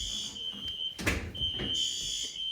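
A building fire alarm sounds during a system test, its piercing electronic tone held steady with a short break, broken by a thud and rustling noises close by.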